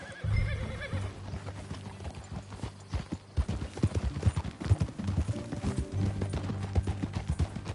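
Horse hooves clip-clop steadily in Red Dead Redemption 2, with whinnies and game music underneath, loud and close throughout.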